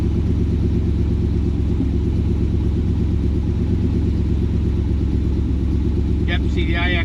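An engine freshly converted to EFI idles steadily at a low, even rumble throughout, loud and close, with a brief higher rattle near the end.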